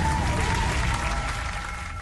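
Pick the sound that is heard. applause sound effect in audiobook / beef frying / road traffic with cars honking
applause sound effect in audiobook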